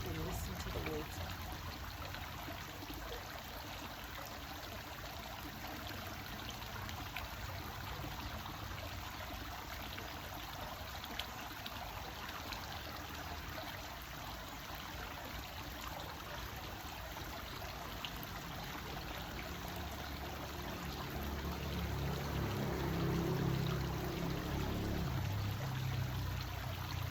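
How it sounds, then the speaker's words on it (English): Gentle flowing water, like a stream or trickling pour, runs steadily as a soft continuous wash throughout, swelling slightly louder near the end. "Breathe and listen to the water."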